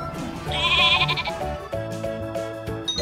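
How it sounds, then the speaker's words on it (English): A single loud, wavering sheep bleat, close and clear, trailing into a shorter follow-up call. "This is a sheep."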